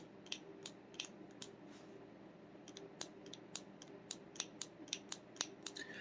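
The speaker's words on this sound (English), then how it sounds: "Plastic triggers always sound a little funny." Repeated sharp clicks of a plastic pistol trigger breaking and resetting during dry fire, about a dozen crisp snaps at an uneven pace over a faint steady hum, close to the microphone with no talking.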